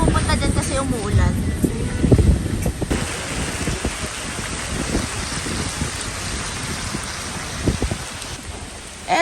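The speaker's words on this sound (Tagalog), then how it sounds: "Sobrang lakas ng ulan." Heavy rain pouring down during a family road trip in Bohol, Philippines, a dense loud wash of drumming drops with irregular thumps, close and continuous throughout.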